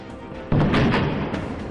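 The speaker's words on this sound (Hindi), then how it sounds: "गोलियों की आवाज, बम धमाका" A sudden loud blast of gunfire or a bomb explosion during an encounter with militants breaks a quiet moment, followed by a rumbling, rattling decay with further thuds.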